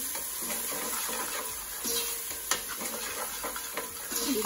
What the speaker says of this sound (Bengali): তো একটু নেড়ে ফেলে মিশিয়ে নিচ্ছি